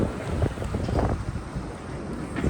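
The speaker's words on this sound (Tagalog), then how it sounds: "It's really windy." Strong wind buffets the microphone in loud, uneven gusts on a Manhattan street, a rough continuous rumble with no voices.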